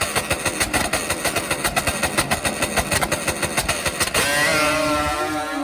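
A Kawasaki H2 750 two-stroke drag bike engine pops in a rapid, loud idle pulse at a drag strip, then snaps into a sustained high-pitched scream as it launches.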